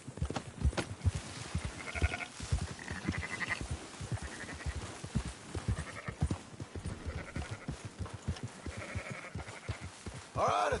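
Sheep bleating repeatedly in a Red Dead Redemption 2 herding scene, several animals calling at moderate distance over an outdoor game soundscape with hoof and movement noise.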